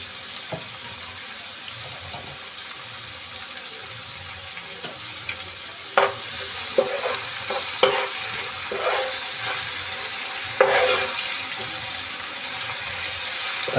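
Tomatoes with salt fried and stirred in a pan for Surti egg khimo, a soft sizzle under scraping and clinking spoon strokes that grow busier and louder partway through.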